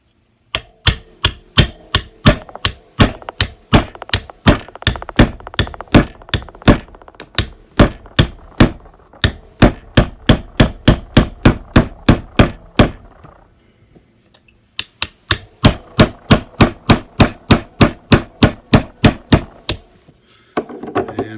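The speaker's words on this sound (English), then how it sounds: "as I was driving out the roll pin" A hammer strikes a 3/32 inch punch to drive a roll pin out of an M&P Shield 9mm 2.0 pistol. The sharp, evenly spaced metallic taps come in a long run, then a brief pause, then another steady run of blows.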